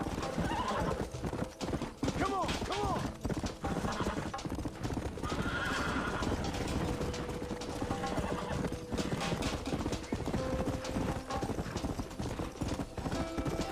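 Galloping horse in Red Dead Redemption, with steady rapid hoofbeats over a game soundscape and several loud neighs and whinnies along the way, close and prominent.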